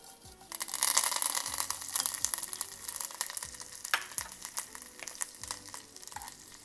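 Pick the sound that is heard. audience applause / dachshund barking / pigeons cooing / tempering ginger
tempering ginger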